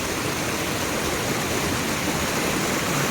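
A waterfall on a farm stream roars steadily nearby, a dense unbroken rush of falling water with no pauses.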